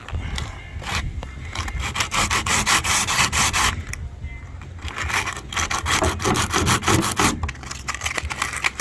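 Hand sanding a 1/5 scale Baja RC car body with sandpaper wrapped around a shaped wooden block, rapid back-and-forth scratchy rasping strokes, steady and close, with no voices.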